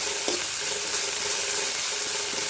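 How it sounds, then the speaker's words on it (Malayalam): Chopped garlic and ginger fry in hot coconut oil for a chicken curry, a steady close sizzle with soft stirring scrapes throughout, no voices. "നമ്മൾ വെളുത്തുള്ളിയും ഇഞ്ചിയും അരിഞ്ഞു വെച്ചേക്കുന്നത് ഇതിലോട്ട് ഇടുക. നല്ലപോലെ ഇളക്കുക."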